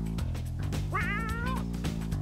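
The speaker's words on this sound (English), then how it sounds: "Don't pull that kitty's tail." A cat meows as its tail is pulled in the Legends of Kyrandia video game, one wavering, complaining meow set over a continuous background of game music.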